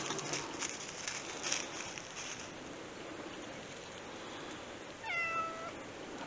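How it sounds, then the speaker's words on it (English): A cat meows once near the end at a snowy hammock campsite, a short faint call over steady outdoor background noise. "Got a whole army of cats on their way up here, if you can hear them."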